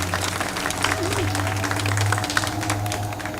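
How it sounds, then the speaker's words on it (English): Audience at a 9/11 remembrance concert applauding steadily with a steady low hum underneath, a sustained even wash of clapping with no speech. "Please give her a round of applause."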